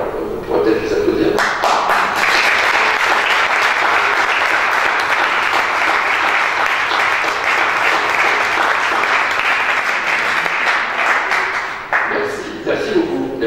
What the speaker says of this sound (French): on pourra peut-être les applaudir